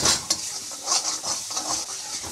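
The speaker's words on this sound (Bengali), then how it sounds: "এইবার দিয়ে এটাকে আমি 5 মিনিটের মতো ভেজে নেব" Tomato masala for Bhola bhetki kalia sizzles and fries in a pan, a bright crackling hiss broken by several soft scrapes of stirring, close and alone.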